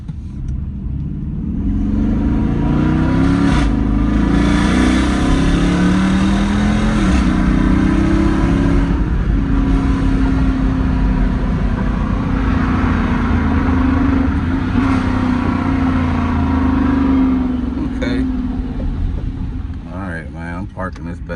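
A 5.7L Hemi V8 idling and revving up and down in a steady series of rises, loud and close throughout, with a brief pause near the end.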